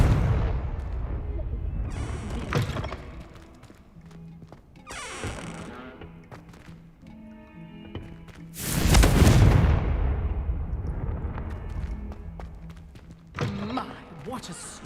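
Blast of the Confringo fire spell in Hogwarts Legacy, with one big loud explosive burst near the middle and smaller impacts and thuds around it, set among game effects and spoken lines.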